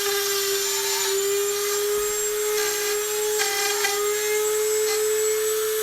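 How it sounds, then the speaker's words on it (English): A Dremel rotary tool cuts a rosette slot into an acoustic guitar top, a steady high-pitched whine that holds constant with faint scraping bursts as the bit bites the wood. "adjusting the Dremel tool for cutting"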